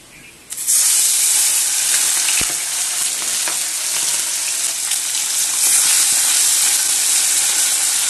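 Fish sizzling in hot oil in a wok, starting with a sudden loud burst of frying as it hits the oil, then a steady, close, crackling hiss that continues throughout.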